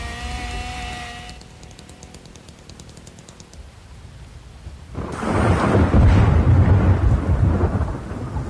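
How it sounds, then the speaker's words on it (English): Thunder from a lightning strike in a video game rolls in midway as a loud, sustained rumble over rain-like hiss, preceded by quieter ambience with light keyboard clicks. "Dude, I think lightning just struck right next to me. In the game."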